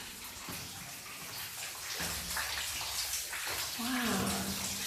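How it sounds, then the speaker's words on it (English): Running water echoes through a flooded lead mine adit, a steady hiss and trickle under faint voices and movement in the tunnel. "Ooh, I can hear water."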